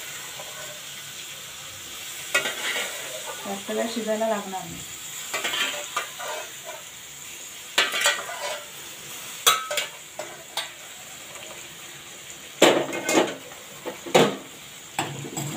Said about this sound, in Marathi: आता हे चांगलं परतून घेऊया